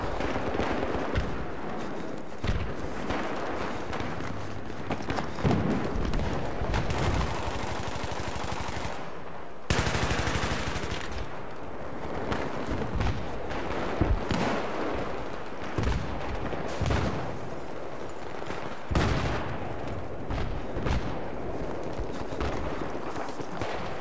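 Rapid bursts of gunfire in Battlefield 3 multiplayer, loud and close, with dense automatic rattles, sharp single shots and heavy impacts filling most of the clip almost without pause.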